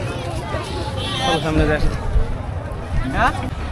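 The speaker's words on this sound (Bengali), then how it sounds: "অনেক ভিড় হয়েছে আর অনেক লোকজন আসছে" A dense crowd hubbub at Kamarkhali bridge on the second day of Eid, with steady overlapping chatter and voices from many people close by and all around, no single speaker standing out.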